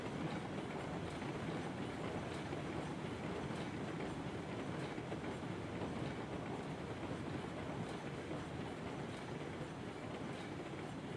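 A train running in the Railroads Online video game, a steady rumble of wheels and rolling stock with a continuous clickety-clack, fairly quiet and unbroken.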